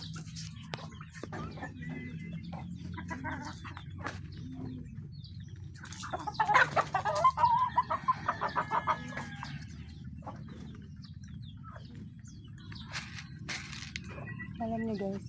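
Chickens cluck and call close by, with a burst of louder rhythmic clucking in the middle and soft background noise.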